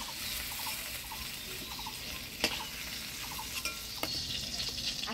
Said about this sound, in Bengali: মাছটা ভাজে নিলাম, এবার নামিয়ে নিব